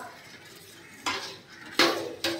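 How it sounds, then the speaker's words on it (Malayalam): Spoon scraping and clinking in a cooking pot while rice and water are stirred together for ghee rice, three distinct scrapes spread unevenly over a quiet kitchen background with no talking. "ഇനി നന്നായിട്ടൊന്ന് ഇളക്കി കൊടുക്കാം"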